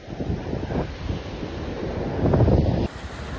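Wind buffets the microphone at a beach while sea waves surge and wash in a continuous rough roar, the gusts thumping unevenly before the noise abruptly drops.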